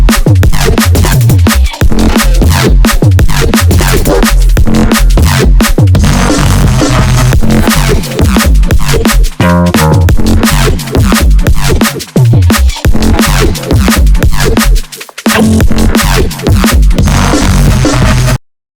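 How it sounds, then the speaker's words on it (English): A heavy, noisy neurobass synth patch built in Serum churns loudly in dense, growling stabs and rhythmic bursts, with brief gaps, continuing for about eighteen seconds without any talk. "we are going to take a look at this super heavy kind of noisy type bass"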